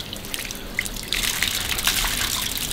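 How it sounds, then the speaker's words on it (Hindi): Cold water runs steadily from a tap for ablution at a mosque, a close, continuous splashing trickle that grows slightly fuller partway through, with no talk. "ठंडा यह पानी हो रहा है भाई,"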